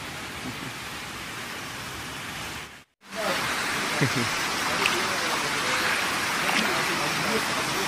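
A river flows steadily while someone walks downstream along it: a loud, continuous broadband rush of water fills the whole stretch, broken only by a brief dropout near the middle.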